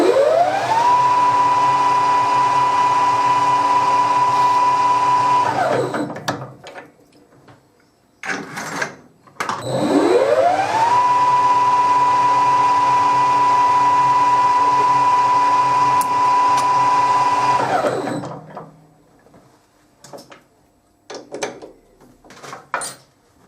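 A metal lathe machining a wheel bearing spacer whines up to a steady high-pitched run, holds, then winds down; this happens twice, with clunks and handling knocks between and after.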